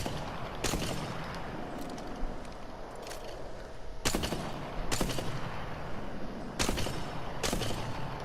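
Sniper rifle shots in the game Apex Legends, five sharp, loud reports spaced a second or more apart, each with a short echoing tail over low background ambience.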